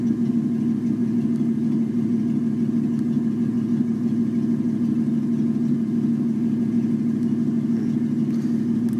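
A 1986 Ford pickup fitted with a swapped-in 1996 4.9L EFI inline-six idles steadily, a loud, even low rumble that holds constant with no revving and no voices.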